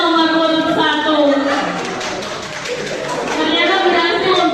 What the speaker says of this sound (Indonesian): Tepuk tangan untuk kandidat nomor urut 1.